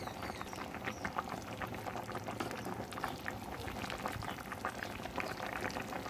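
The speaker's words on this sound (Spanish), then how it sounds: "Vamos a dejar cocer" Chicken feet soup with broccoli, celery and cilantro boils steadily in a pot, a dense close bubbling and popping that runs evenly throughout without speech.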